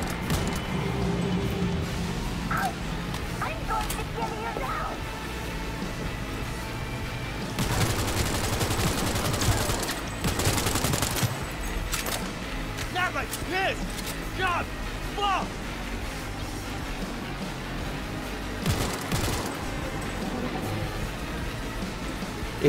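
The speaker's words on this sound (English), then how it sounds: "Okay, assault rifle. Now this is more like it." Bursts of assault rifle fire in Cyberpunk 2077 crackle in several loud volleys between quieter stretches, with a steady rain-like hiss underneath and a voice talking at times.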